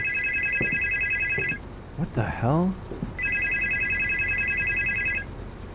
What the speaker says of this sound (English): How is the phone ringing? It was disconnected.